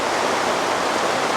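Heavy rain pouring down at a night market in Cebu, a loud dense continuous hiss with a steady even wash and no voices over it.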